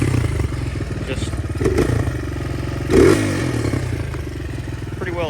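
A Honda 200X fitted with a swapped Chinese engine and its original carburetor runs close by, giving a steady chugging drone with a slight rise in revs and a clattering thump partway through.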